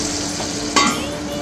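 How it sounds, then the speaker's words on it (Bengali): Cauliflower fries in a pan with a steady, close sizzle, briefly rising as it is stirred partway through. "ফুলকপিটা ভাজা হোক"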